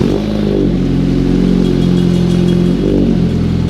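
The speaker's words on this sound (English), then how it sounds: "Let's hear what it sounds like." A Honda Civic Type R with a Mugen 3-inch oval performance exhaust and 4-to-1 manifold drones loudly and close at high idle, swelling through two brief revs.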